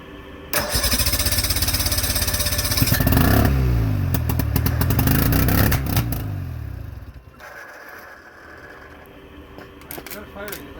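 A Chrysler 55 outboard motor fitted with an Evinrude magneto fires up on a test run, sputtering and roaring loudly close by for several seconds before cutting out. Faint clatter and voices can be heard afterward.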